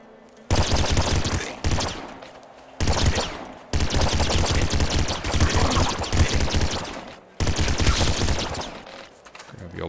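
Laser pistol fire in the video game Nuclear Throne comes in long, dense bursts of rapid shots separated by short silent gaps, loud and close with no talk over it.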